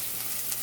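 Onions sauté in a pan for Jamaican curry coconut rice, giving a short, steady, even sizzle that stays level and close with no voice over it.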